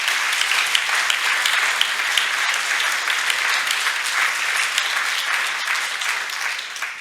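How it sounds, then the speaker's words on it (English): Dense, sustained applause from a conference audience at a film critics' event, a steady wash of many hands clapping at once, loud and even throughout without talk over it. "So please, a round of applause for our panel."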